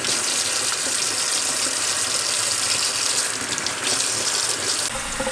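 Running tap water rinses sea moss in a sink, a loud, continuous gushing splash that stays close and steady the whole time, with no talking.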